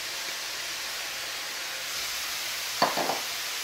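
Frozen vegetables hiss in a hot pan with a steady broad sizzle, topped by a couple of brief clattering stirs near the end.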